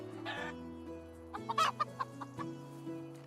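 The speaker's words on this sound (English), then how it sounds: "Oh, the chickens are going crazy." Chickens in the video game Medieval Dynasty cluck in an agitated flurry of short calls, clustered in the middle of the passage over a quiet game background.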